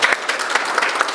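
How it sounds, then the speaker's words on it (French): Audience applause at a drawing-of-lots ceremony in France: a dense, steady burst of many hands clapping together, fairly close and continuous for its brief length. "Donc on peut les applaudir aussi s'il vous plaît."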